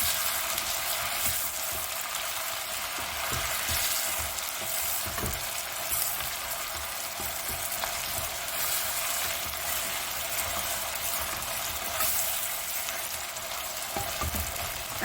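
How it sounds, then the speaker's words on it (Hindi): Mutton sizzles steadily as it fries in a pot for mutton with almonds, a continuous bright crackle with occasional scrapes of stirring and no talk. "गोश्त को पहले मैं थोड़ा भून लूँ"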